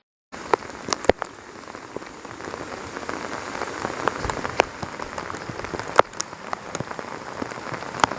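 Steady heavy overnight rain pours down on a surface in Kodur village, a dense continuous hiss punctuated by sharper drips and splashes close by.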